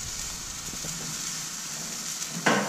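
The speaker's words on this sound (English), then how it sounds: "That sizzle is what really gets me." Garlic and food sizzle in a frying pan at home, a continuous close hiss that ends with a brief louder clatter near the finish.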